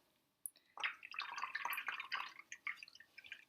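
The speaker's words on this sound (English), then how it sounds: "I'm just dripping the water in there so I don't have to clean my brush again in the dirty water" Water drips from a brush into watercolor paint, a quick run of small, close, irregular drips and splashes over a few seconds with no voices.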